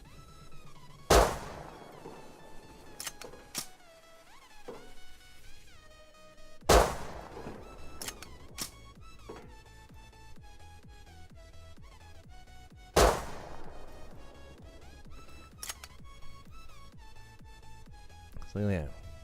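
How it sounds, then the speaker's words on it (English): Semi-automatic pistol firing high-velocity ammo in the video game Rust: three sharp, loud shots spaced several seconds apart, with someone talking quietly between them. "semi-automatic pistol with high velocity ammo actually doesn't do too bad"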